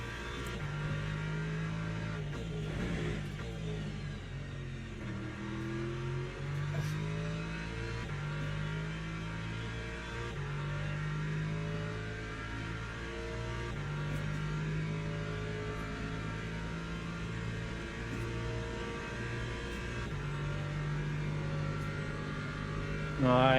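An LMP2 prototype race car engine in the Le Mans Ultimate sim game holds a steady, loud drone throughout, with the pitch stepping up and down as it shifts through gears, plus a brief spike of added noise near the start.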